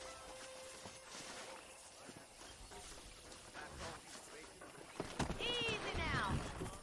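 Hooves clop over a busy outdoor ambience in Red Dead Redemption, then a horse lets out a loud, wavering whinny near the end.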